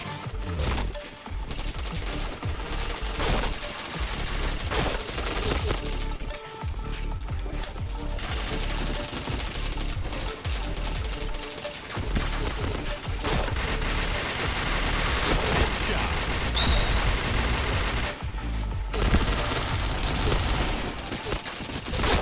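Rapid bursts of gunfire in a shooting video game, near and loud, with dense automatic volleys broken by brief pauses over the whole stretch.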